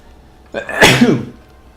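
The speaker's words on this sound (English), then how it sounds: "I sneeze. I'm a loud sneezer." A single loud, explosive human sneeze bursting out of near silence, close to the microphone and heard on its own.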